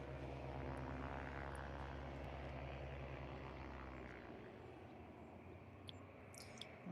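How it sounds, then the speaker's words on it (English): A propeller aircraft taking off from Liverpool Airport bound for the Isle of Man, a loud droning engine roar that gradually fades into the distance, with a few faint clicks near the end. "Oh, it's a bit of a longer takeoff for that one."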